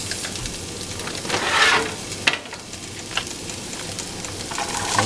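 Onions sizzle and crackle steadily in a hot pan for a chicken thigh and vegetable meal prep, a dense close frying hiss with occasional stirring clatter and no talking.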